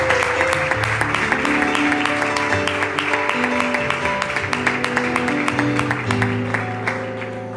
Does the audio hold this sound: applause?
yes